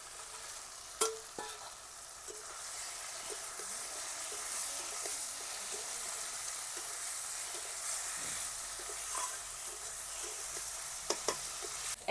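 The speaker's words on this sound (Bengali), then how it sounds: "এখন মাছগুলো দিয়ে দেব।" Small mixed river fish going into a cooked-down spice masala in a pan, with a steady broadband sizzle and scraping stirring strokes throughout, plus a few sharper clicks of a spoon against the pan.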